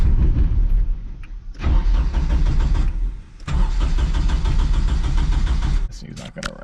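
An LS-swapped Nissan 240SX cranks on its starter in two or three long loud bursts with short pauses, failing to catch, heard up close.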